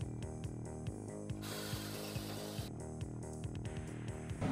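A power drill whirs in repeated short bursts, with a longer sustained grinding stretch in the middle as a screw drives at an angle into a garage wall.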